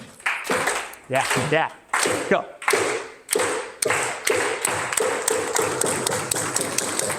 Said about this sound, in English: Can we do a slow clap?